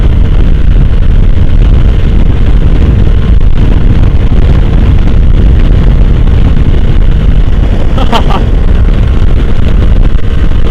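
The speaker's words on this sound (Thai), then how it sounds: "ลมมันแรงครับ" Strong cold wind roars and buffets loudly and continuously while riding a Yamaha Nmax 155 scooter, a dense low rumble filling the whole stretch, with a brief sharper gust near the end.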